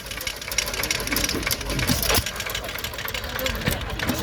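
A 1931 Fuller and Johnson 1.5 hp hit-and-miss pump jack engine runs at an outdoor stationary engine show, giving steady mechanical chugging and knocking over a busy background of crowd noise and other machinery.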